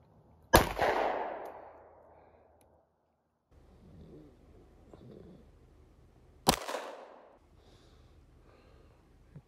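At a shooting school, two sharp, loud gunshots ring out about six seconds apart, each followed by a decaying echo, with quiet murmuring in between.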